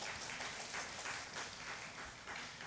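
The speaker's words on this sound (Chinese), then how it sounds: "我们拍手欢迎他们" A church congregation at a Taiwanese-language Sunday service claps to welcome two people, a faint, dense wash of many hands applauding steadily for a few seconds at a distance.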